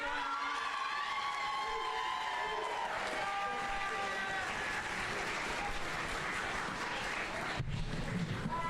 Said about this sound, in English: one more big round of applause for all of our performers